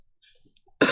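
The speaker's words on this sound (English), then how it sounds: "I coughed." A single loud, close cough bursts out abruptly after near-silence and fills the last moment, harsh and broadband, during a casual podcast recording.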